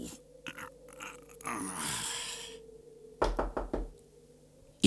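Knocking on a door during a spoken children's story set on a snowy night: a quick cluster of four or five firm raps, near and fairly loud, after a softer rustling stretch.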